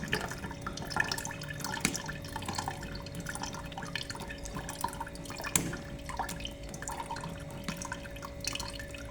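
Liquid drips and trickles steadily while cooked miracle fruit is drained and squeezed, a close, continuous wet patter with occasional louder drops.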